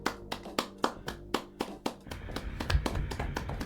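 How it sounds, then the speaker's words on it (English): Several people applaud over a video call, with sharp, evenly spaced claps that give way to a looser, overlapping patter of quicker claps for a few seconds. "Oh, we've got two claps."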